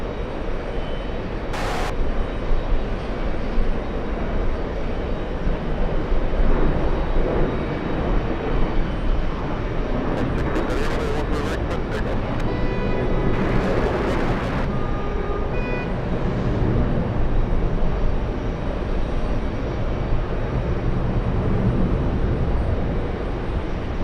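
Steady jet engine roar from airliners taxiing at JFK airport, a continuous broad rumble with a few brief higher-pitched whines and clanks rising over it.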